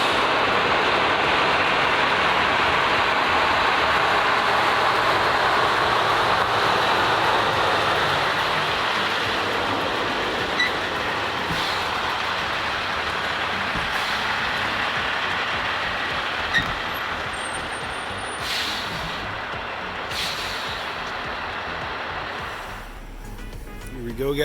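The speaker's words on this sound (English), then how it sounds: "Down in the distance, we got the truck. He is on his way down here now." A truck arriving in the dark to pick up a wrecked 2011 Ford Mustang GT rumbles outdoors as a broad, steady engine and road roar that slowly eases off, with no talk over it.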